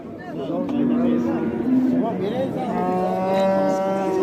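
Cattle low and moo repeatedly at the Ozgon livestock market, where a cow with her calf is offered for sale. The long, drawn-out calls sound close and loud and overlap one another over steady crowd murmur.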